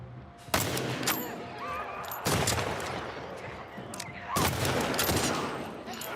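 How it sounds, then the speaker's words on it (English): Three loud gunshots in a prone-position video game shooting sequence, each a sharp burst followed by a long decaying rumble, spaced about two seconds apart with background game ambience between them. "we are going to shoot this guy in the head"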